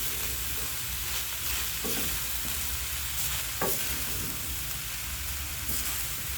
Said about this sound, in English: Turn off the gas and just stir gently.